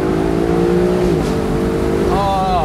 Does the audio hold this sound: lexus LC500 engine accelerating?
yes